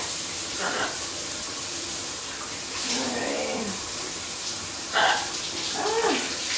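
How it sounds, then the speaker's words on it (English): Shower water running to bathe a pet parrot, a steady faint hiss of spray with a few brief louder splashes and squawk-like bursts partway through, heard up close indoors. "All right, so I think we're ready for a shower here."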